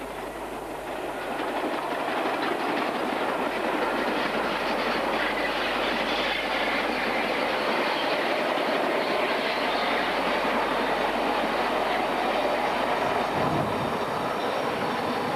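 A steam locomotive train rumbles past close by on a main line with continuous loud clattering and rolling noise, sustained throughout with a slight rise early on.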